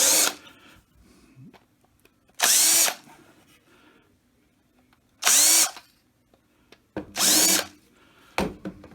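A power drill deburrs the back of a hole in a wooden Adirondack lawn chair, with three loud, sustained whirring bursts spaced a few seconds apart against quiet handling noise in between.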